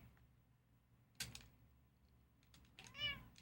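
A cat gives a single faint meow near the end, after a few soft clicks and a knock in a quiet room.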